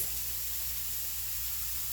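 Broccoli sizzling in a hot pan with chile garlic oil, a steady close hiss of frying with a faint low hum underneath and no talking.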